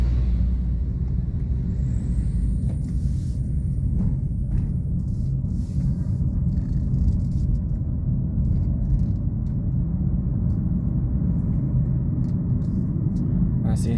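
Congested traffic crawls along the Gunung Gumitir mountain road between Jember and Banyuwangi, a continuous low rumble of vehicle engines that stays close and steady throughout.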